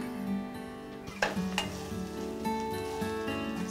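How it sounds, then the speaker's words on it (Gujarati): Vermicelli roasts in hot ghee in a pan over low heat, giving a steady soft sizzle with a couple of scraping stirs and light clinks partway through. "ઘી થોડું ગરમ થાય ધીમો તાપ રાખવાનો છે। એટલે આ જે સેવ મળે છે વર્મીસેલી એને અંદર નાખીશું"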